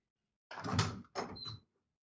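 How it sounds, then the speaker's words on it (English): Indoors, doors move in two quick, faint bursts, a knock or thud followed by a short scraping slide, with nothing else around them. "There's a lot of doors moving."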